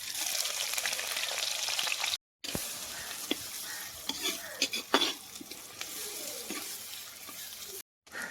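Onion, fennel seeds and cinnamon sizzling in oil in a pan while cooking goat intestine curry, a steady frying hiss with occasional stirring scrapes and clinks, close and continuous, with two brief gaps.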